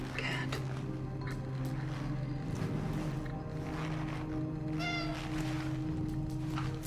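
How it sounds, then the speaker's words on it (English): A cat meows in Cronos: The New Dawn, short tonal calls over a steady low game ambience hum, with a voice briefly present alongside. "Yeah, there's cats in this game. And you can pet them."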